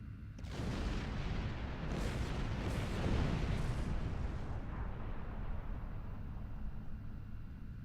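Starship weapons firing in Star Trek Online, heard as a sudden loud blast that swells into a sustained, rumbling barrage of booms and explosions for several seconds, then eases slightly at the end.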